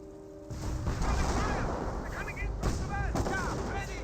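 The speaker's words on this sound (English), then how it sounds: "I got more artillery raining on in over here." Artillery fire in the strategy game Company of Heroes, a quiet opening that breaks into dense, overlapping booms and crackling blasts, with sharp distinct impacts near the end.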